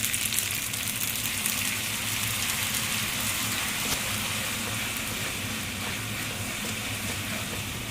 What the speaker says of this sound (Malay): Okay, masukkan sedikit air.